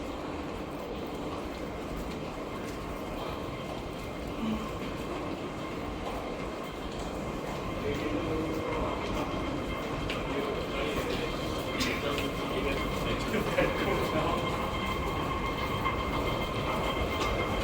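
A Hong Kong MTR subway train heard from on the platform or inside the car, a steady rumbling roar with clattering wheels that grows louder partway through, while a voice talks intermittently over it.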